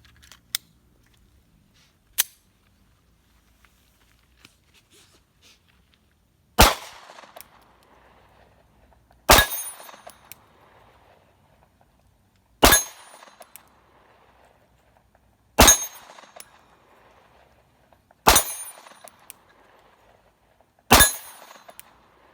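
Sig P365 pistol fired at an outdoor shooting range, sharp single cracks spaced a few seconds apart, two lighter pops followed by six loud shots at a steady slow pace, with no voices.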